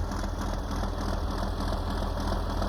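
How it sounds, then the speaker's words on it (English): An old John Deere 4650 tractor idles while warming up, giving a steady, continuous low engine rumble with a broad hiss on top and no change in pace throughout. "But let my old tractor warm up there"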